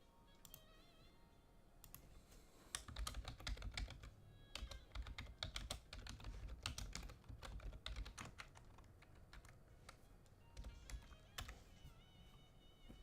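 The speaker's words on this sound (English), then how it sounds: "you guys hear the typing?" Rapid, continuous clacking of keys on a computer keyboard, close and steady with bursts and brief pauses, over a faint background hum.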